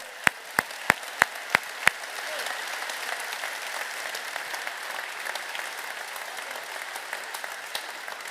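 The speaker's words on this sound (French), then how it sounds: "je voudrais vraiment qu'on applaudisse Adrien Delimon" Audience at a political New Year's address in Hainaut breaks into applause: six sharp, evenly spaced single claps lead into a sustained crowd clapping that carries on at moderate level to the end.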